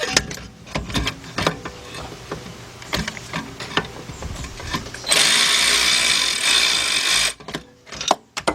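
Someone works a ratchet on the alternator bracket bolts of a BMW V8 with clicking and clattering, then a steady whirring burst of about two seconds from a powered tool, and ends with a few knocks.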